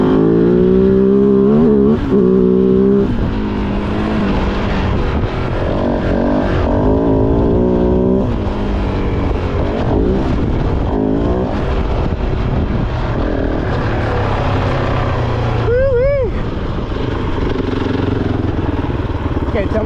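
Dirt bike engine riding along a graded dirt road in Baja, a steady loud motor drone with shifting pitch throughout, rising and falling as the rider throttles, close to the microphone with wind buffeting.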